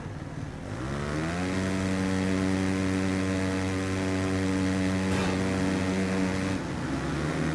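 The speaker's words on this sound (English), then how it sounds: "I like the sound of the engine so far" Motocross bike engine in the MXGP3 racing game revs up from idle into a steady, loud buzzing drone with strong harmonic tones, holding high and briefly dipping as the throttle eases near the end.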